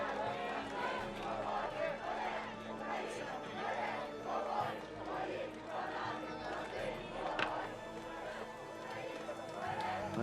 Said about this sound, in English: Big support from the crowd as we go into round 2.